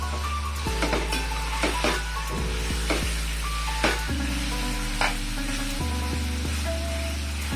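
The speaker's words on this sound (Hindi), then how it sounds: "इसको मैं ना थोड़ी देर के लिए अच्छे से फ्राई करूंगी।" Chicken frying in hot oil in a pan for a red chilli chicken curry, with a steady loud sizzle and repeated scraping stirs of a spoon, no talking.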